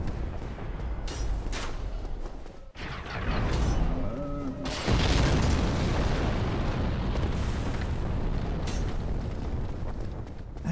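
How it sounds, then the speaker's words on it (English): An explosion in a video game: loud booming blasts with a sharp burst midway, followed by a sustained roaring rumble of debris and fire, dense and close throughout. "That explosion, man, that's way too loud."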